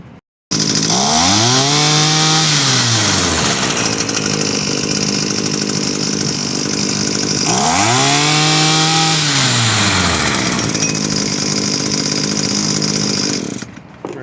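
A small Echo HC-266 two-stroke engine on a hedge trimmer runs loudly and close after a carburetor repair, revving up and back down twice in long sweeps between a steady buzzing idle, then cutting off.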